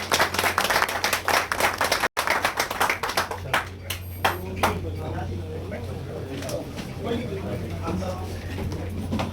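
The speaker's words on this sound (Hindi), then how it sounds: "हमारे बीच जोरदार ताली बजा दें" Clapping from a crowd at a political welcome event in India, dense at first and then thinning into scattered claps, with a steady hum and some voices in the background.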